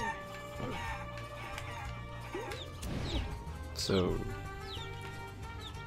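Chickens cluck and squawk in the video game Guacamelee, with clattering hits and crash effects over steady background music while a voice speaks briefly.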